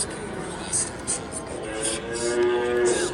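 Cattle low in the pastures around Gouda in the Netherlands, a few drawn-out moos rising over a steady outdoor background while a person talks throughout.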